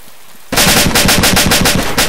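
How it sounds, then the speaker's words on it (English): Sudden loud automatic gunfire in DayZ breaks a quiet moment: a close, rapid string of rhythmic shots that continues steadily to the end. "there's guys are shooting guns"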